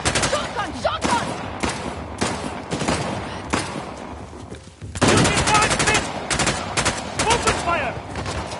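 Heavy gunfire crackles in rapid bursts and sustained volleys, loud and close, with shouted voices mixed among the shots.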